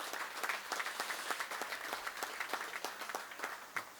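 Scattered audience applause at a municipal council meeting, a soft, fairly distant patter of hands clapping steadily for a few seconds with no voices over it.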